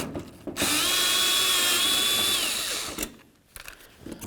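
Power drill backing out a bolt on a 1994-2004 Chevy S-10 near the fuel door, a steady close whine lasting about two and a half seconds, then stopping with some handling noise after.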